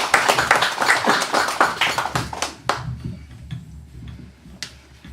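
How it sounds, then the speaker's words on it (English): Applause for poet Francis White at a poetry reading, with close, crisp individual claps in an uneven patter that thins out after about two and a half seconds, leaving a few scattered late claps over a low hum. "More applause please for Francis White"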